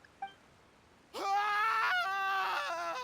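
A game character screams while drowning in Genshin Impact, a loud wavering wail that starts suddenly after a brief faint sound and holds for about two seconds.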